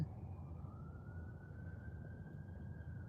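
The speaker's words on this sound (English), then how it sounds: "Every morning that ambulance goes by, y'all." An ambulance siren sounds in the distance, a faint rising tone drawn out over a low traffic rumble as it passes, with no voices.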